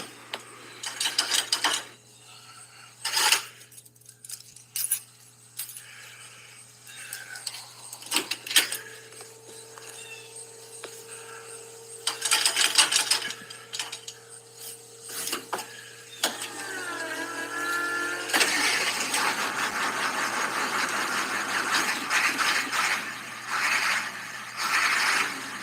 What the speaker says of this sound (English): Enjoy the music of the sound of this bad girl starting.